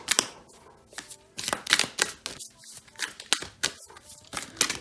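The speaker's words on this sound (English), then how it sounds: "so that's why I may be shuffling in a very weird way" Tarot cards being shuffled by hand while standing, giving repeated crisp riffling and flapping bursts in an irregular rhythm, fairly quiet and close, with no talk over them.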